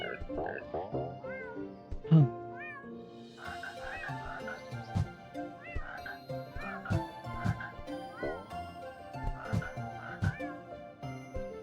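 Cartoon cat meows in the Go Up Frog video game, rising chirpy calls repeating several times over busy game music and effects, with a voice talking now and then.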